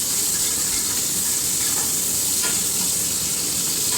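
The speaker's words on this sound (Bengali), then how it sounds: "পেঁয়াজটাকে দিয়ে খুব ভালোভাবে পেঁয়াজটা লাল লালভাবে ভেজে নেব" Sliced onions fry in hot oil until reddish, a steady loud sizzle and hiss with faint stirring scrapes throughout.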